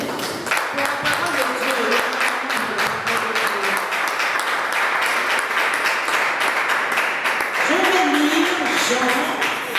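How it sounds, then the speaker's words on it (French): A church congregation applauds, with sustained clapping mixed with loud cheering voices and singing throughout. "Est-ce qu'on peut acclamer pour cela, s'il vous plaît?"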